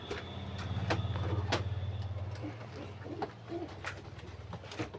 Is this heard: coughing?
no